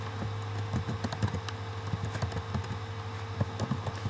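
Steady clicking of keys on a computer keyboard, irregular taps over a low constant hum in a quiet room.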